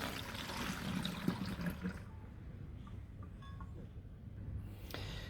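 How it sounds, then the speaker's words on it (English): Witch hazel pours into a bottle as a close, bubbling gurgle for about two seconds, then fades to faint trickles and small clinks. "we're just going to pour that straight in there."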